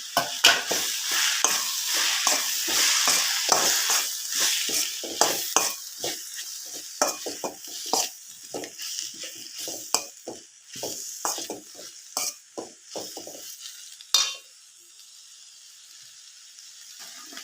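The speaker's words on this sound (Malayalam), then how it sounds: "നമ്മൾ കഴുകി മാറ്റി വെച്ചിരുന്ന സോയ ഇതിലേക്ക് ചേർത്ത് കൊടുക്കാം" Washed soya chunks are stirred and fried in a pan, a bright sizzle under repeated scraping strokes of a spoon, near and fairly loud, fading to a quieter hiss near the end.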